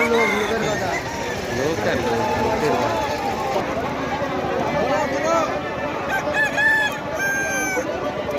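Roosters crow repeatedly over a loud, dense crowd of chattering voices at a cockfighting arena in Barughutu, Kusumdanga, with clucks and crows breaking through the noise.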